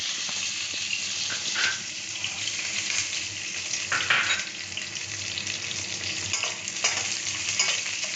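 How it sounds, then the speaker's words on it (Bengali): Raisins and cashews frying in ghee, a steady close sizzle broken by occasional louder stirring scrapes, continuous for several seconds with no talking. "এবার এখানে এই যে কিশমিশ আর কাজুটা ঘিয়ে ভেজে নেব।"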